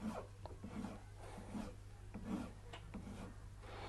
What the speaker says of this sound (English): I'm trying to take down the corners, and I'm just filing down towards the circle now